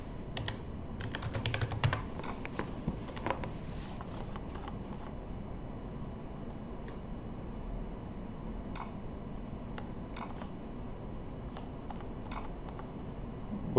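Someone types a user ID and password on a computer keyboard, a burst of close, quick key clicks at the start followed by sparse single taps over a faint steady hum.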